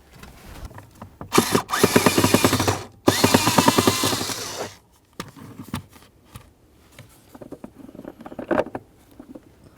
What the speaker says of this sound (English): continue on to your 1 Phillips head screw